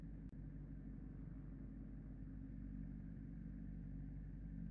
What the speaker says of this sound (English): As the engines roar to life,